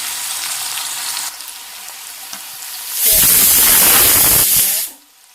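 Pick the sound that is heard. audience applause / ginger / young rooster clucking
ginger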